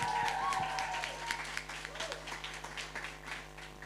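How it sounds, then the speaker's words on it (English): A crowd at a Strictly-style dance fundraiser claps for a couple who just danced the Charleston, scattered hand claps over background music and a few voices, fairly quiet and fading toward the end. "Give a big round of applause to our Charleston."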